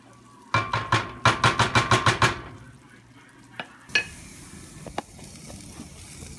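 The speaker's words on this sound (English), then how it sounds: "And just stir this up." Mushroom risotto being stirred in a pan gives a run of rhythmic scraping strokes, close and fairly loud, followed by a quieter background hiss with a few isolated knocks.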